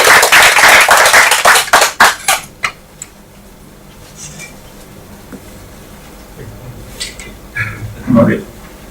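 Audience at a Toastmasters club meeting breaks into brisk, close applause for about three seconds, thinning into a few scattered claps, followed by quiet room tone and a brief spoken greeting.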